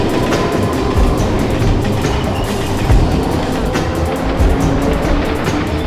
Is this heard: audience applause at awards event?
no